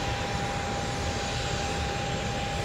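Jet aircraft at Tampa airport give a steady, broad engine roar with a thin sustained whine on top, constant and unbroken throughout.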